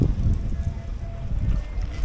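Wind blowing hard outdoors, a steady low rumbling roar buffeting the microphone in uneven gusts, beside a melting pot of recycled wheel weights used to make fishing weights.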